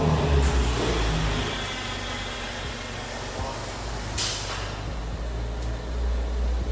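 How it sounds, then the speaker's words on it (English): A Ferrari F512 M engine starts and settles into a steady, loud idling rumble with brief rises in revs, heard up close with no talk over it. "Low-key Ferrari starting up"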